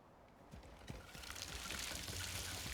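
Water pours onto crops in the video game Icarus, a soft trickle that swells into a steady, fairly faint splashing stream.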